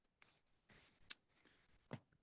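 Keyboard typing in a quiet room: a few scattered, soft key clicks and taps at close range with gaps between them, no voices.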